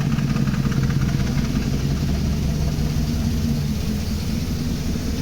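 A Mercedes W124 engine idles roughly and misfires just after start-up. Its steady low rumble runs close and continuous for about five seconds, with no voices.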